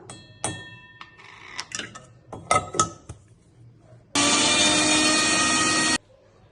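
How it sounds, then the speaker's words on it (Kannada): A mixer grinder whirs loudly and steadily for about two seconds, blending soaked cashews with cardamom pods in its jar. Before it starts, scattered clinks and knocks sound as the jar is set in place. "10 ನೆನೆಸಿಟ್ಕೊಂಡಿರೋ ಗೋಡಂಬಿನ ಮಿಕ್ಸಿ ಜಾರಲ್ಲಿ ಮಿಕ್ಸಿ ಮಾಡ್ಕೋಬೇಕು"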